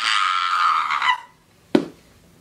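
A woman screams loudly for about a second, a harsh sustained cry that cuts off, followed after a short silence by a sharp knock or thud.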